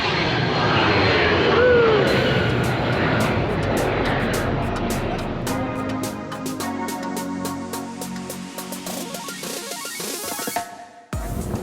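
An Airbus H130 helicopter on a Seattle tour flight produces a steady loud engine and rotor roar inside the cabin, with irregular clicks and rattles joining in later.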